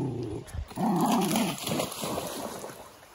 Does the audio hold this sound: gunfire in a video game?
no